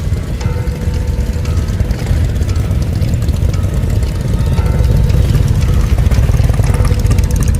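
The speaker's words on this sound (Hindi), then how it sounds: "मोटरसाइकिल की आवाज आई।" A motorcycle engine rumbles steadily and loudly, a continuous low drone that grows slightly stronger toward the end.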